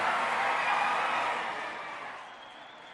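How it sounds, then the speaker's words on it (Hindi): A crowd at a dawat-e-iftar gathering attended by Telangana Chief Minister A. Revanth Reddy applauds loudly, a dense wash of clapping that gradually fades over a few seconds. "जोरदार तालियां, जोरदार तालियां।"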